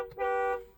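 A car horn gives one short, bright toot lasting under half a second, fairly close and clear, with no talking over it.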